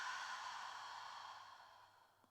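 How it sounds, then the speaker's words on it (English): A single slow, soft exhale from a yoga breathing exercise, a gentle airy rush that tapers away over about two seconds with no talking. "Exhaling it out."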